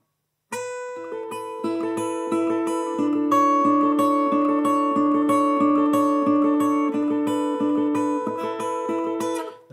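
Steel-string acoustic guitar fingerpicking the intricate closing section of a song, a steady thumb-driven pattern of ringing plucked notes under a sustained melody, close and clear with no voices.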